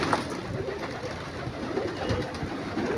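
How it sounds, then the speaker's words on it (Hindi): A flock of racing pigeons coos and shuffles close by in a loft, soft overlapping throaty coos and rustling wings forming a busy, continuous murmur. "बेहतरीन कबूतर हैं तमाम के तमाम, रेसर कबूतर हैं जी"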